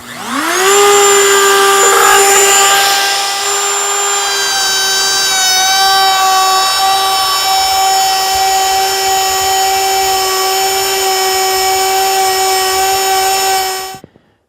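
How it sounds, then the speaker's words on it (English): A router running continuously while it cuts finger grooves along the side of a solid wooden handrail made from rough lumber: a loud, steady high-pitched whine that holds for about thirteen seconds before it stops abruptly. "Now it's time to switch on the router and start making sawdust using the bit that forms the finger grooves on the side of the handrail."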